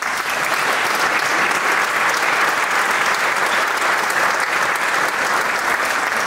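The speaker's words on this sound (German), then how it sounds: "es ist ein Applaus wert" Sustained applause from an indoor audience at a New Year's reception in Adelsdorf, honouring 30 years of sports badge participation; dense, steady clapping throughout with no break.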